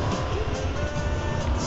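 A car drives in the MTA video game, with a loud, steady engine and road rumble that runs throughout, close and continuous.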